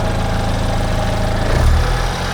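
A damaged BMW 328si with an N20 engine idles close up, a loud, steady low rumble with a slight rhythmic knock and a brief swell near the end, no voices.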